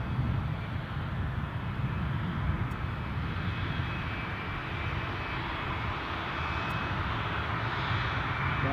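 Embraer jet aircraft at Edinburgh Airport, a steady broadband engine roar held at constant level throughout, distant and unbroken, with no voices present.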